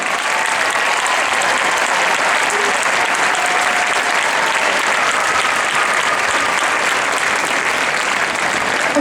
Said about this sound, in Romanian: vă rog să susțineți cu aplauze evoluția perechii cu numărul 436